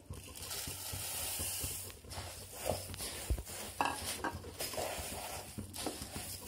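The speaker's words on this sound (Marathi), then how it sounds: "आता जे कुरमुरे आहेत ते मी कुरमुरे घालून घेते पाकामध्ये" Puffed rice being stirred into hot jaggery syrup in a pan, a steady dry rustling and scraping with occasional sharper clinks of the spoon against the pan, close and continuous without speech.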